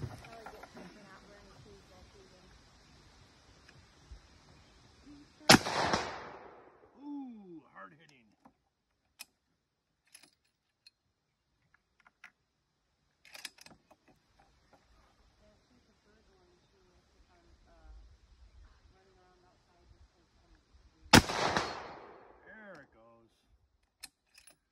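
Gunshots from a new gun at a hot outdoor shooting range crack loudly and close, a few isolated sharp blasts spaced well apart, with mechanical handling clicks and quiet gaps between.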